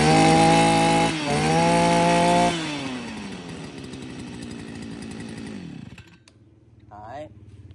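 A petrol chainsaw fires up and revs hard with a loud buzzing engine, then winds down and falls back to a lower idle, with a voice heard briefly near the end.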